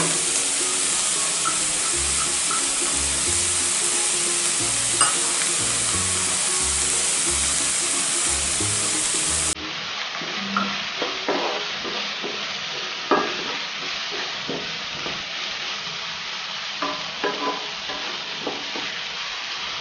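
Chopped capsicum sautéing in a pan for egg roll, a continuous close sizzle with scraping stir strokes and occasional utensil knocks against the pan, no voices.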